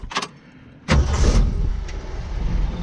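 A Jeep CJ7 fitted with a new dual Borla exhaust fires up after a couple of short clicks, then settles into a loud, deep, close rumble that holds steady to the end.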